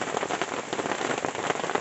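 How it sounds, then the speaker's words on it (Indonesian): Heavy rain pours steadily on a mountain hiking trail on Mount Ciremai's Linggasana route, a loud, unbroken hiss of drops drumming on surfaces close by. "Kondisinya hujan semakin besar guys."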